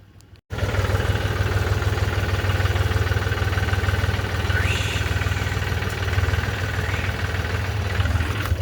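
A tractor engine runs steadily in an open field while a trailer is loaded with fodder, a loud continuous low rumble and throb that starts abruptly after a brief quiet moment and holds without pause.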